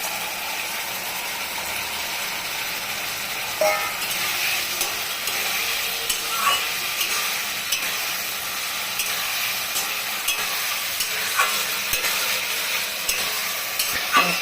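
Cauliflower florets for chilli cauliflower fry crisply in a pan, giving a steady close sizzle with scattered sharp crackles and scraping stirs throughout, with no talking.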